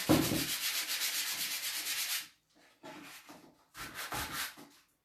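Light hand sanding to remove leftover sticker glue, a close, scratchy rubbing in one long steady stroke series followed by two shorter bursts separated by brief pauses, with no talking.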